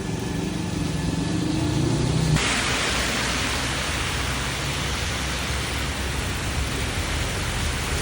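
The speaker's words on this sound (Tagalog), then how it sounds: "inabot na kami ng ulan ni Piolo" Heavy rain pours down as a loud, dense, continuous hiss that fills the scene throughout, with no voices heard.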